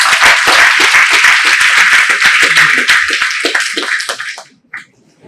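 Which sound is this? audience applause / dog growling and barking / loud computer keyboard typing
audience applause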